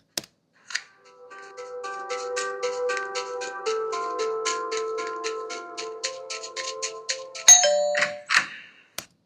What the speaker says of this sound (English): The calling bell sound is actually taken by the sound stock audio